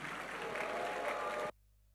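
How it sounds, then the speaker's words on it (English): Church congregation clapping during a Sunday service, a thick, steady wash of applause that cuts off abruptly into silence. "Keep clapping for them and let's welcome our Father"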